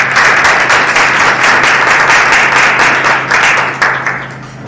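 Loud, dense applause from a large audience at a day of recollection for nurses, honouring the catechetical centre team, sustained and steady before tapering off at the end.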